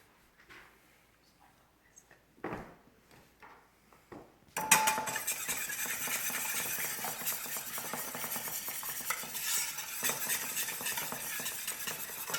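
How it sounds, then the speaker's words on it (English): An egg is cracked and whisked in a pan for soft pretzels: a few soft taps and clinks at first, then a sustained brisk scraping whisking rhythm close by. "I'm going to crack my egg and whisk it in my pan"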